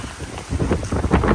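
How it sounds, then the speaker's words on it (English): Wind gusting across a mountain hiking trail on a cold morning, a steady rushing roar buffeting the microphone with surging, uneven gusts, close and fairly loud. "Wind."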